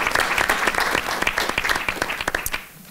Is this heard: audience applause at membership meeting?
yes